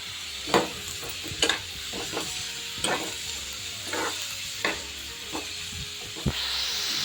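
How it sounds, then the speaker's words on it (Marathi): Hadga pods from the hummingbird tree fry in oil with a steady moderate sizzle, broken every second or so by scraping clacks of stirring. The hiss swells near the end. "आता तेलात फ्राय करून घेते"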